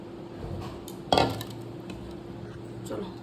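Dishes and cutlery clink softly as food is served at a home dinner table, with one sharper clatter of a plate or spoon amid quiet room tone.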